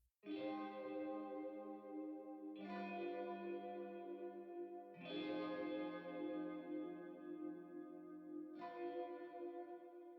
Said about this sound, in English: this electric guitar where I'm just playing the chords of the main melody